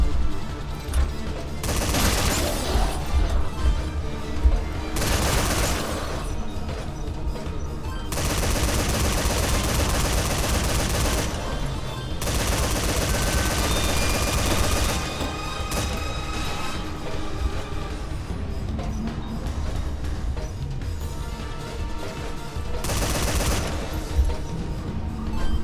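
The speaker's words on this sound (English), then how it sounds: "touch my machine gun?" Sustained machine gun fire from a shooter game, Metal Gear Survive, rattling in long loud bursts with brief gaps between them, no talking over it.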